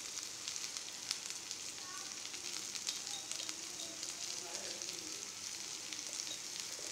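Sliced bitter gourd fries in a pan with a steady, soft sizzle and crackle, close but fairly quiet, with occasional light stirring noises.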